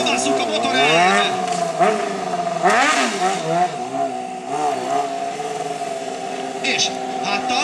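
A motorcycle engine hums and revs in pitch-swooping bursts during a wall stunt show as the rider circles on one wheel, loud and close under the voice of a speaker talking over it.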